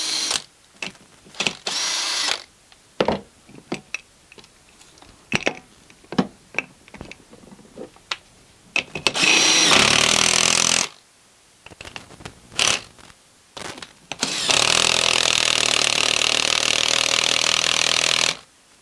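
A tire bead breaker tool worked against a tire at home, giving repeated sharp mechanical clanks and ratcheting bursts, then two longer sustained loud grinding, pressing stretches, close and with no talk.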